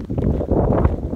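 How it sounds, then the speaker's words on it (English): Wind buffeting a microphone beside the Deschutes River while backpacking, a loud low rumbling gust that swells and dips over the brief moment with no voices. "it's a little windy"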